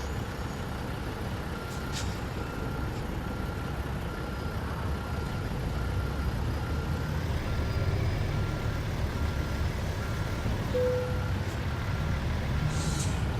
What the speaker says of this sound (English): Trying to straighten up the truck a little bit.